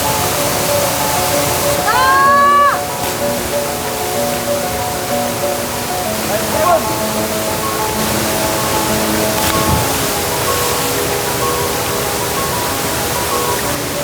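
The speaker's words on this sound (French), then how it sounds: "On entend de l'eau et ça, c'est bon signe" Rushing water from a waterfall or stream in the countryside, a steady, loud broadband roar that continues without a break, with faint birdsong and a brief whistle-like tone over it.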